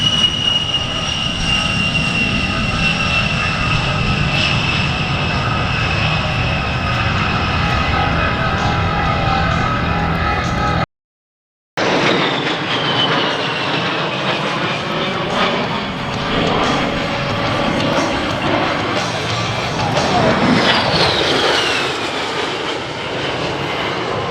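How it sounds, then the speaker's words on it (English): Aircraft engine roaring during a takeoff roll at an airshow, a loud, sustained droning whine with shifting tones, heard from nearby and continuing after a brief break. "They're on the takeoff roll now."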